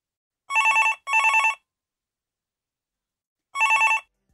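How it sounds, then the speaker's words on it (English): A telephone rings for a 3CX phone system queue callback, two short electronic trilling bursts in quick succession, a pause, then a third, crisp and loud in silence. "the caller's phone will start ringing and the callback is complete"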